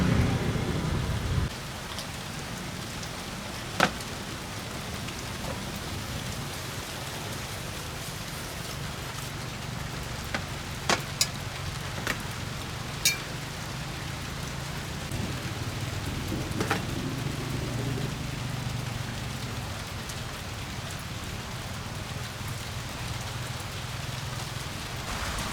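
Steady heavy rain falls throughout, a dense even hiss with a few sharper drop or crackle impacts scattered across it, and no talk.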